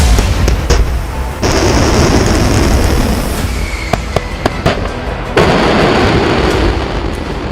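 Artillery rocket launches roar out as a loud, sustained rushing blast broken by sharp cracks and pops, with a second surge of launch noise partway through.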